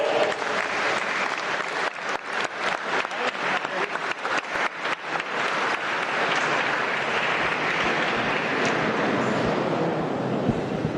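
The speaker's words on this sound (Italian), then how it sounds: "Siamo all'applauso." Audience applause in a hall, with a burst of distinct, rhythmic claps early on that swells into a dense, sustained wash of clapping and stays loud to the end.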